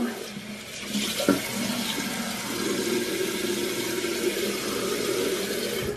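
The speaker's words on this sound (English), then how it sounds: "So I'm gonna go ahead and wash that off now." Water runs steadily from a sink tap while a face is washed, a close, continuous splashing rush with occasional louder splashes, and no speech.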